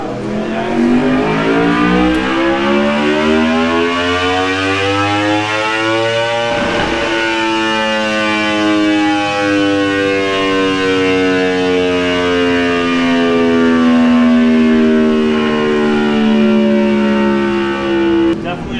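An Aprilia RSV4 motorcycle with a tuned ECU revving hard on a dyno: a loud, rising engine scream that drops briefly, then climbs again in a long, sustained pull to high revs.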